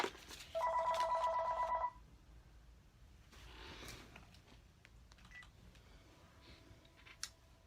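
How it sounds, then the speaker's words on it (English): A phone rings indoors with a single electronic chirping burst of about a second and a half, fairly loud, followed by quiet room sounds and faint rustling. "My phone."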